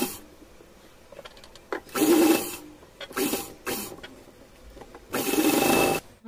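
An electric sewing machine stitches piping along the folded edge of a small doll dress, running in several short bursts of steady whirring separated by pauses.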